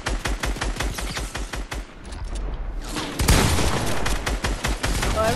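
Shotgun fire in Fortnite gameplay crackles in rapid, dense bursts of loud shots, with a short lull before a heavier barrage of overlapping gunfire.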